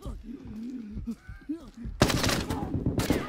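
Rapid bursts of gunfire from the shooter game Arena Breakout Infinite crack in from about two seconds onward, loud and dense with a second volley near the end, following a stretch of talking at the start.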